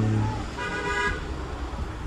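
A short bus horn toot sounds amid street traffic rumble, with a brief musical honk standing out near the start.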